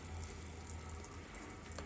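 Water trickles at low pressure from a water purifier tap, a steady faint running stream with no voices.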